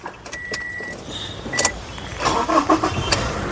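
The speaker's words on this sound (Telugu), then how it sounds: "సింగిల్ సెల్ఫ్లో కార్ స్టార్ట్ అవుతుంది ఎటువంటి స్టార్టింగ్ ట్రబుల్ అయితే లేదండి" A Toyota Innova Crysta 2.4 G from 2016/17 is started with its key, first a jingle of keys and clicks, then a short crank and the engine catching, all close up without talk.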